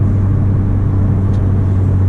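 Inside a turbocharged Honda Civic with a 3-inch straight pipe exhaust, a steady low engine drone and rumble fills the cabin, constant and close with no words spoken.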